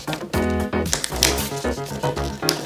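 Colored paper being folded into a scallop shell, with crisp crinkling, rustling and creasing bursts close by at a fairly loud level, no talking.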